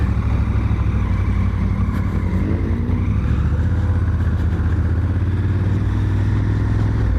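A Honda Africa Twin big adventure bike lapping a motocross track at night, its engine droning steadily and loud throughout with small shifts in pitch as it rides, nothing else over it.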